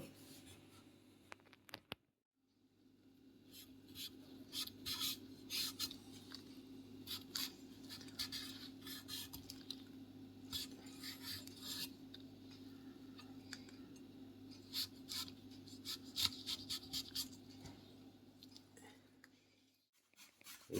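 Green papaya being rubbed on a grater for Bengali papaya ghonto, a continuous rapid scraping texture with a steady rhythm, close and moderately quiet, after a short pause near the start.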